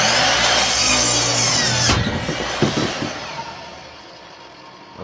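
Power saw cutting wood for a windmill planter: a loud, steady whining cut for about two seconds, then stopping, followed by scattered knocks and rattles of wood being handled, close by.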